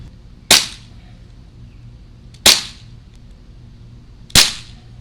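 An Umarex TDP 45 CO2 BB pistol fires three sharp, snappy shots at an even spacing of about two seconds, each a crisp close crack with a quick decay in a quiet setting.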